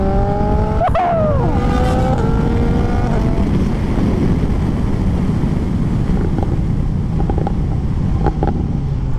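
Yamaha motorcycle ridden with a passenger aboard, a loud steady engine drone and rushing wind noise throughout, with the revs climbing and dropping sharply early on.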